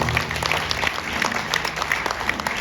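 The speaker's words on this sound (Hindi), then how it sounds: "एक बार जोरदार तालियां कलाकार के लिए" An audience at a Bhagavat Katha gathering bursts into brief, dense applause for a performer, a short loud patter of many hands clapping with little else beneath it.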